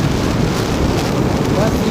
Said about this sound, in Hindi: और 130 पे चल रहा है मेरे बाइक।